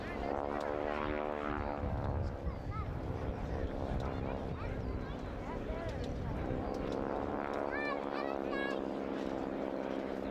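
A Fairey Swordfish propeller biplane flies past at a D-Day commemorative airshow, its droning engine a steady loud hum with rising and falling pitch, while a commentator talks continuously over it.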